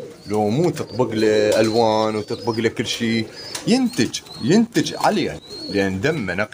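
Pure-bred pigeons coo repeatedly at close range, their deep rolling calls rising and falling under steady, continuous male speech.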